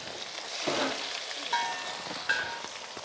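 Fish and onions fry in a pan, giving a steady, fairly quiet sizzle with a few brief clicks and utensil touches.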